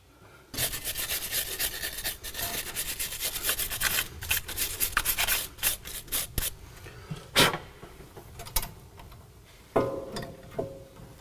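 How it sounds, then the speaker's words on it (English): A metal brush scrubs a car's brake caliper in rapid, rasping back-and-forth strokes, dense at first and then breaking into slower separate scrapes with short pauses, close up and fairly loud. "I'll clean the brake caliper with a metal brush."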